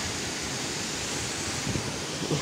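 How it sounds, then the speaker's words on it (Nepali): Continuous broadband rush of a waterfall, steady and enveloping, with no voices, in Gulmi, Nepal. "हेर्नुहोस् सरर झरना"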